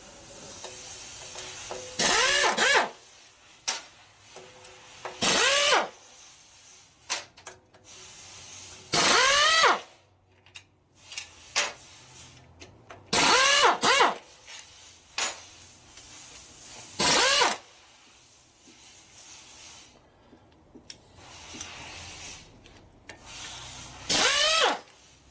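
A power tool fires in repeated short bursts, about seven rising and falling whirring spins with quiet pauses between, during repair work on the primary belt drive of a Harley with an S&S 113ci Evo motor.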